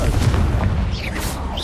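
A Confringo explosive spell blasts in Hogwarts Legacy, a loud, dense booming burst with crackling, whooshing magical tails, close and continuous over the short moment.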